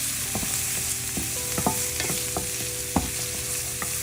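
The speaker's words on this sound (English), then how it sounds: "I'm going to stir it up" Rice for Mexican rice fries in a hot pan with onions and gets stirred. A steady close sizzle runs under repeated scraping and shuffling strokes of the spoon through the grains.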